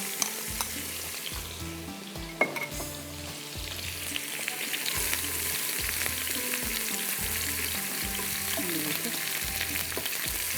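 Koftas sizzling in hot oil in a pan, a steady close frying hiss that runs throughout with faint stirring clinks and no talk.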